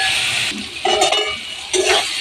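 Chopped tomato, chilli, turmeric and cumin are stir-fried in oil. A spatula scrapes and clinks against the pan over a loud, close sizzle.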